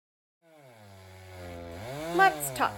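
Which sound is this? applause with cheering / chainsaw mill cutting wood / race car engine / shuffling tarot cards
chainsaw mill cutting wood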